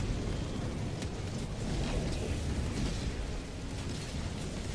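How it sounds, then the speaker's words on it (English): An airstrike explodes in Helldivers 2 as a dense, sustained rumbling roar of blasts that stays loud and broadband throughout, with no clear separate hits. "Got an airstrike."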